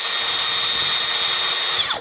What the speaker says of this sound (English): Yeah, with this, so it's drill activated